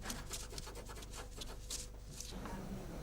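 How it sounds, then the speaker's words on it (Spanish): A solvent-soaked cloth wipes the ribs of a handmade folding fan in a craft workshop, producing a continuous close, soft rubbing and scraping with rhythmic strokes. "Después, Paula limpia la superficie de las varillas con un disolvente"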